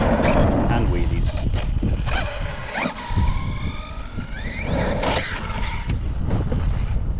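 An Arrma Kraton 6S V6 RC truck driving and popping wheelies, its electric motor whining and revving in rising and falling sweeps, with loud wind noise and someone talking over it throughout.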